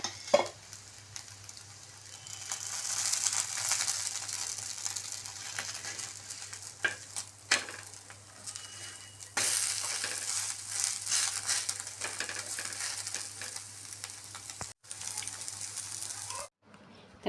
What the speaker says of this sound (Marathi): आपल्याला हे दोन्ही साईडने छान तेल टाकून भाजून घ्यायचं आहे.